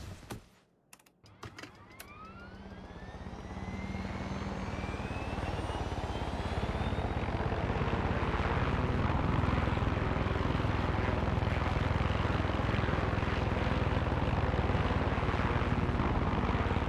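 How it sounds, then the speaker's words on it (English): Helicopter in the video game Far Cry 6 starts up with a few clicks, then a rising engine whine that swells into a loud, steady rotor and engine roar sustained to the end. "Might as well take a chopper."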